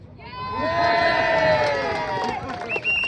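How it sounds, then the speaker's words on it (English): A rally crowd cheers and shouts loudly, voices swelling into sustained whoops and yells that hold steady, with clapping mixed in and a brief dip near the end. "That's where you clap."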